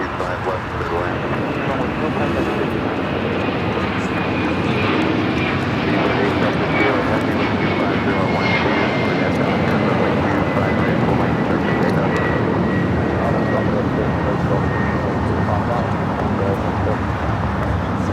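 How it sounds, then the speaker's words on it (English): A converted Boeing 767 cargo jet takes off from runway 25 right at LAX, its engines making a steady, loud roar that holds across the whole stretch with faint road traffic beneath. Someone is talking over it. "we got cargo jet, the converted 767 now rolling down at 25 right."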